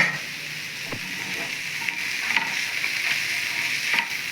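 Fish frying with onions in a pan, a steady close sizzle broken by a few scraping stirs and turns of the pieces.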